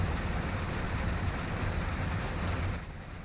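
An intermodal freight train approaches in Train Sim World 2 on Horseshoe Curve, heard as a steady, loud low rumble that holds evenly and then eases slightly near the end.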